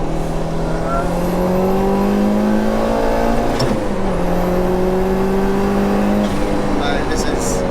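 A turbocharged 2.1-litre stroker Peugeot 205 GTI accelerates hard on boost from inside the car, its engine note climbing through rising pitch sweeps, dropping at a gear change and climbing again, loud and continuous.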